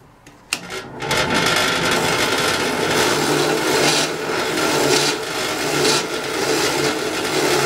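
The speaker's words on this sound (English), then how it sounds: "it's gonna go and drill it out" A drill bit bores out the inside of a wooden cane, starting with a sharp knock and then a steady, loud grinding rasp that runs unbroken to the end.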